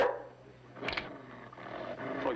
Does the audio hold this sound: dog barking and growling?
yes